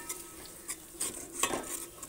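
Garlic paste is stirred into a pan of browned onions, with a spoon scraping and clinking against the metal pan over a faint sizzle, in several short, close strokes.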